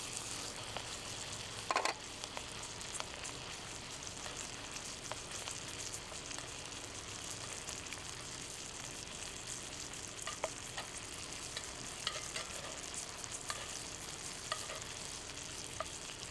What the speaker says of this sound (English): Let's flip that steak back over.